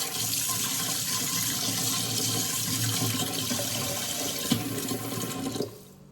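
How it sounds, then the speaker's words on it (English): Running water from a kitchen tap rinsing a metal fork in a sink, a loud steady splashing rush that cuts off near the end. "wash my fork off."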